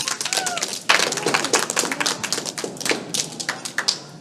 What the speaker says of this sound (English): Let's clap for Jet.